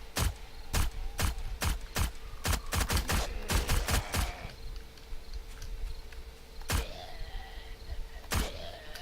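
An SMG fires in the video game 7 Days to Die, a fast string of close sharp shots over the first four seconds, then two isolated single shots later over a steady ambient hum.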